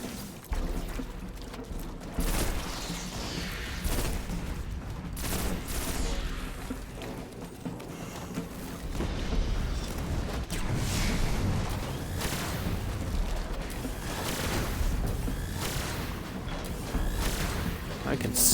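Repeated weapon discharges including fusion rifle fire in a Destiny firefight, loud booming bursts recurring throughout over a busy game soundscape, with a voice talking at times.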